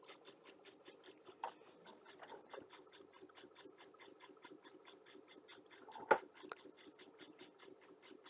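A sewing machine stitches fabric in a rapid, even run of quiet mechanical ticks at close range, with a brief louder clack near the end.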